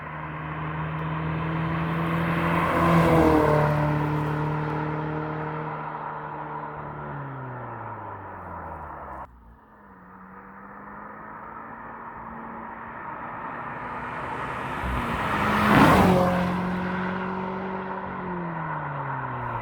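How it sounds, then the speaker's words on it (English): A 2022 Subaru BRZ fitted with a new catback exhaust sweeps past twice, each pass building to a loud, close peak and then fading away. No one speaks. "we added in some drive-by shots of the new exhaust"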